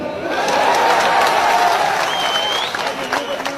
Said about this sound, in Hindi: तो ठोको ताली।